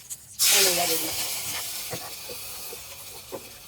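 Mustard seeds, curry leaves and dried red chillies dropped into hot oil burst into a loud, close hiss, settling into steady sizzling with scattered popping crackles and no talking.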